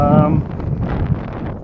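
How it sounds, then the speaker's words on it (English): Strong wind blows across an open field, a low, rumbling buffet against the microphone that fills the clip, with a brief tonal sound at the start. "It's really windy here right now because I'm passing through a field."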